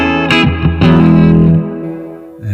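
Electric guitar played clean through the spring reverb of a Blackstar Amped 2, with a few loud picked notes and chords that ring out and decay into a splashy, washy reverb tail, alone with no talk.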